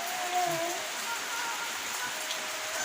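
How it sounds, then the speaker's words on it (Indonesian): Light rain patters steadily in a soft, even hiss, with a few faint tonal chirps near the start. "Hujan, gerimis aja."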